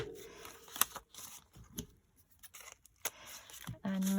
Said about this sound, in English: I need to tear it a little shorter than my envelope